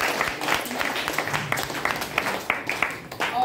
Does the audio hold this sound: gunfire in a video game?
no